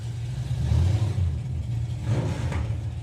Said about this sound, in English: the car I could hear with the nitrous